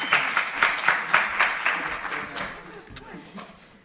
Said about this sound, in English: Please give Olipa a round of applause.